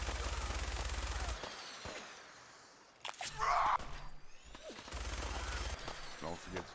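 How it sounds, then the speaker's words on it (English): Minigun fire in Fallout 4, heard as two bursts of dense, rapid, loud automatic fire at the start and end, with a brief burst and other combat noise in between. "let's use the minigun here to kind of tear ass"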